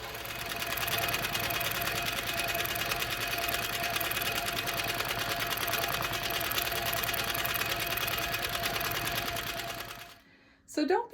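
A sewing machine micro quilting fabric, tacking down the backing, runs as a fast, steady, close mechanical whir for about ten seconds, then stops, with a few brief rustles at the end.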